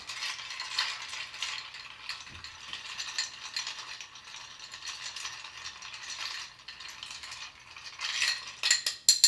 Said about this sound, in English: this is a cocktail that is not shaken because it's liquor only, so we're just going to stir 20 times around